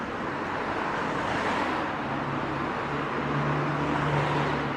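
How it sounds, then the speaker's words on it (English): Road traffic rumbles steadily as cars pass close by at night in Shotton, North Wales, a continuous broad whoosh with engine hum rising toward the end, no voices. "Just wait for all the noisy cars to go past."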